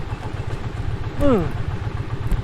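A motorcycle engine idles with a low, steady putter outdoors near Poço Negro, Castro Daire, Portugal, while a person speaks briefly over it.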